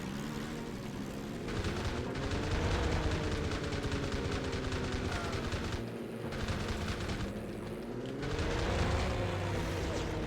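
A Zero fighter's machine guns in Heroes of the Pacific fire in long rattling bursts over a droning aircraft engine that rises and falls in pitch, loud and close.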